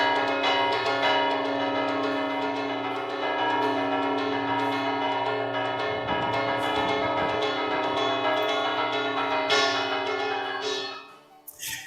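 Traditional church bells from a village in Zamora province ring in a steady pattern of repeated strikes with long overlapping resonant tones, loud and close, and nobody speaks over them.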